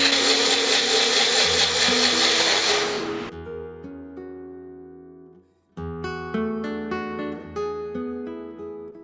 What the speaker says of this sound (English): Blend well with water in a blender.